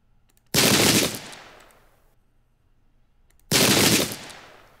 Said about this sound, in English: Right now we're just exchanging shots.